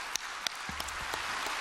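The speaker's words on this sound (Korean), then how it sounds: "박수 한번 하십시다" Church congregation breaking into brief applause in a large hall, a dense wash of clapping that stays steady at moderate loudness for under two seconds, with no talk over it.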